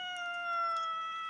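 A single drawn-out, tonal meow from a cat, fairly soft and steady, heard alone in a quiet room.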